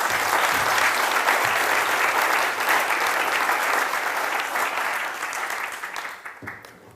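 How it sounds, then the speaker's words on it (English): Sustained applause from an event audience for a departing speaker, a dense, loud wash of clapping that holds steady and then tapers off near the end. "Please, one last round of applause for Dries."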